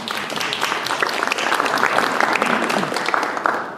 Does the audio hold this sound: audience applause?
yes